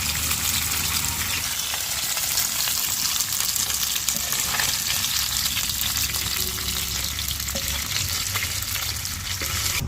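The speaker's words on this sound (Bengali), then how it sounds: "তেলেগুলাতে পেঁয়াজ রসুন দিয়ে দিই" Onion and garlic fry in hot oil in a pan, giving a loud, continuous crackling sizzle that stays even for the whole ten seconds, with some stirring scrapes and no talk.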